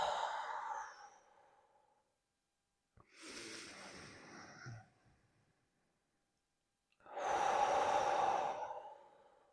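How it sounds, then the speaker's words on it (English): Three deep, audible breaths during a Pilates stretch, each a long airy inhale or exhale through the mouth lasting a couple of seconds, separated by short silences, close and fairly loud with no talk. "Big inhales through the mouth."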